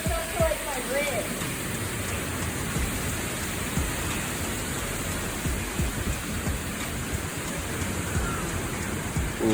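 Heavy rain pouring steadily during Hurricane Milton at landfall, a dense continuous wash of noise with gusting wind, loud and unbroken throughout, with faint voices in the background.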